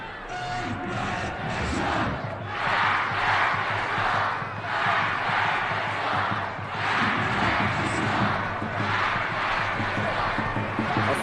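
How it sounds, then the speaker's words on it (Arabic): Crowd noise in the stands of Duhok's stadium at an Iraqi Stars League football match, Duhok versus Naft Maysan: a dense, steady roar of cheering and chanting that swells and dips in waves throughout, loud and enveloping. "أصوات على المدرجات"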